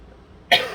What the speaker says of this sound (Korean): 이렇게 그 강의를 많이 하면 이렇게 자꾸 기침이 나서